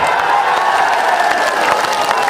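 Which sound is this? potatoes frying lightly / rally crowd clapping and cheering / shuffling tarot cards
rally crowd clapping and cheering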